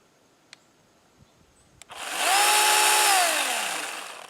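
Hart battery-powered chainsaw spinning up after a few clicks, a loud, even electric whine that rises quickly, holds steady for about two seconds, then starts to wind down, close by and alone without talk.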